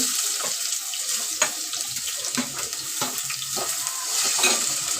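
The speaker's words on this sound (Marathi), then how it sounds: "कढीपत्ता कांदा टाकते" Curry leaves and chopped onion dropped into hot oil over a low flame for soybean bhurji give a close, steady sizzle with irregular crackles and spits, no speech.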